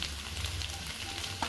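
Sliced onions sizzle in a hot pan as the base for a soya roast, a dense steady crackling hiss throughout, close and moderately loud.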